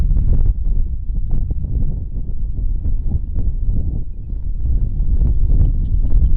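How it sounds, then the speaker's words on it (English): Steady rumbling wind buffets the microphone throughout beside the SpaceX Starbase launch tower at Boca Chica, a dense low roar with gusty swells and no voices. "it's pretty windy out"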